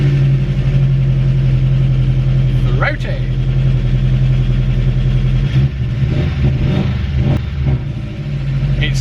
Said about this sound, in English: we've got to get the Porsche out the workshop, and there is no exhaust on it